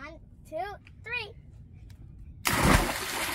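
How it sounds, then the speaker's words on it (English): Out in open water in the Florida Keys, a voice speaks in a few short bursts, then, after a pause, a single loud, close splash follows as the child jumps in, with water churning afterward. "I'm getting ready to jump in the water"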